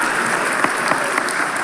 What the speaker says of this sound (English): Look at all them goobers clapping